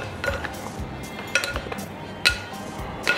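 Quinoa salad with ginger garlic dressing being mixed in a bowl, with a soft scraping and stirring bed punctuated by a few sharp clinks of a utensil against the bowl, close and moderately quiet.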